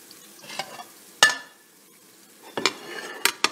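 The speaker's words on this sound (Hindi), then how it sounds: "मेरा प्याज फ्राई हो गया।" Onions frying in a pan before mutton liver is added for kaleji masala, with soft sizzling broken by sharp stirring scrapes and clinks of a utensil against the pan, in several separate bursts.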